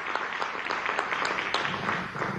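Applause from an audience at a Venezuelan presidential health event, a fairly dense burst of clapping with sharp individual claps audible through the wash.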